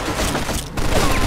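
Gunfire in the video game Mafia 2 comes as a loud, dense crackle of rapid shots with a brief dip midway, close and continuous, with no voices.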